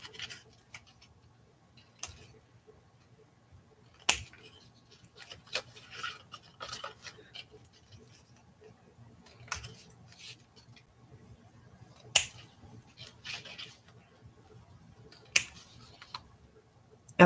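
Scissors trim paper mountain shapes for an envelope craft, giving sparse, sharp snips spaced a couple of seconds apart with faint paper rustle between. The sound is quiet and close, and no one speaks.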